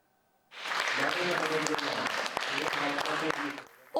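Applause fills a hall at a book presentation, a dense, steady clapping from the gathered audience that starts abruptly, holds for about three seconds and then fades.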